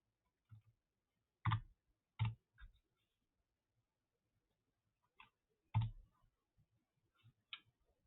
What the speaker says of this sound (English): I'm going to type it a third time